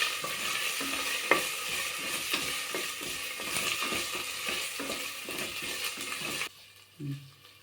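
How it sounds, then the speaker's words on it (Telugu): Coriander and rice mixture frying in a pan, a continuous sizzle broken by regular scraping stirs of a spatula, then the frying cuts off abruptly near the end leaving a soft thud in quiet. "ఇది బాగా ఫ్రై అయిపోయిందండి"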